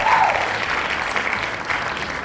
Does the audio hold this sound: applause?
yes